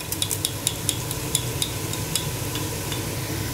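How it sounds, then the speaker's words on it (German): Diced red onion sweating in olive oil in a pan makes a soft, steady sizzle, with light, irregular clinks of a utensil stirring against the pan throughout; no one speaks. "Und die Zwiebeln, die schwitzen wir schön glasig an."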